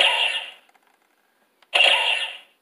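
A Star Wars Kessel Run Millennium Falcon toy fires its electronic cannon effect twice. Each blast is a short, loud, bright burst from the toy's speaker, with a clear gap of silence between them.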